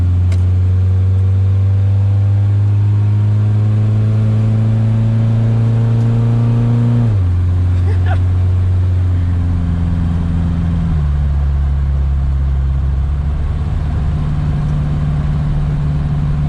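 A 1969 Opel GT with an automatic gearbox and custom exhaust revs hard at high RPM, a loud, steady drone that drops in pitch through gear changes as it drives.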